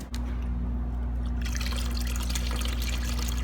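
Floor stripper is poured into a mop bucket holding five gallons of water, a brief knock followed by a steady close trickling, liquid pouring sound with no talk.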